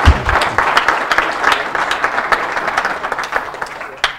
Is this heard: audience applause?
yes